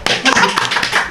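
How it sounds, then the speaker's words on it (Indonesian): A few quick hand claps for a classmate during a casual podcast chat, brief and close, with talk and noise mixed in. "tepuk tangan buat temennya Gali yang ngaku."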